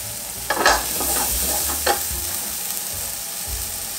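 Foie gras sizzles steadily in a hot frying pan with apples nearby, a constant hiss broken by a couple of brief louder scraping flips near the start, close and without talk.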